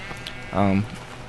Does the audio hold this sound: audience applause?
no